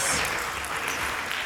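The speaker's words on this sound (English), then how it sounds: "Let's give a warm round of applause as they take the stage to share their vibrant talents." A gala audience at an Independence celebration applauds youth performers as they take the stage, a short burst of steady crowd clapping mixed with a voice.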